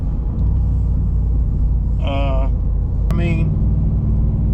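A riding mower engine with a newly fitted drive belt runs with a steady low rumble close by, while someone talks briefly over it.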